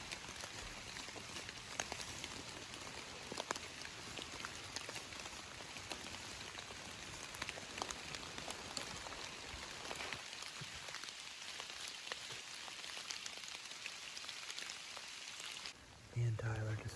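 Steady rain falling on woodland in Ohio during a November bow hunt, a dense continuous patter spread across the clip, with a brief break near the end.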